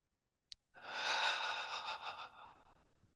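Slow breaths during a guided breathing exercise: a brief sharp intake, then one long, steady, audible exhale that gradually fades, close and fairly quiet with no talking.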